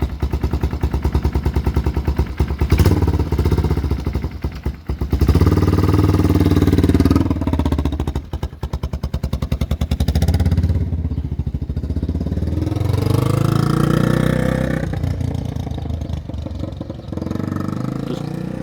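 A loud 1978 Honda XL250 motorcycle engine idling with a harsh, popping open exhaust with its baffles removed, revved several times with rattly blips rising and falling throughout.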